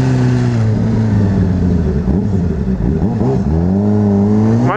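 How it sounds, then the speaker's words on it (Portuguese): A 600RR sport motorcycle engine revs hard and close, its loud droning tone rising and falling in repeated throttle blips with a sharp climb at the end. "o Hugo dá muita repicada na moto"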